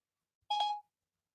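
A voice assistant on a phone gives a single short electronic chime, clean and fairly quiet, with silence before and after.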